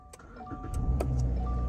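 Subaru Impreza engine starting from a push button after a dead battery, short clicks and electronic chimes, then the engine cranks and catches into a rising, rough idle close by.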